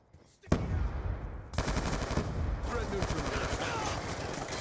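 Sustained automatic gunfire in Black Ops 2 (Plutonium), loud bursts starting abruptly after a quiet moment and continuing densely with layered shots from the surrounding battle.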